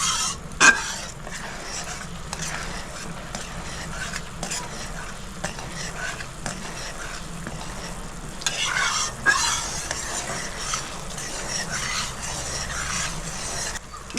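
Mustard gravy for shorshe ilish bubbling and simmering in a pan, a soft steady sizzle with occasional stirring scrapes and a few sharper clinks.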